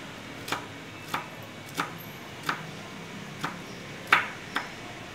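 A knife chops ingredients for a steamed egg, shrimp and pork loaf, striking a cutting board in seven sharp, evenly spaced strokes, close and clear with no talking.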